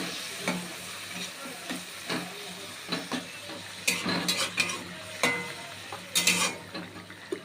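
Drumstick vegetables and tomatoes being mixed with mustard paste in a pan, gentle frying sizzle under repeated scrapes and clinks of a utensil against the metal, in irregular bursts close by.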